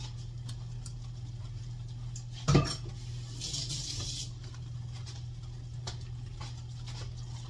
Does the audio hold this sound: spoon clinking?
yes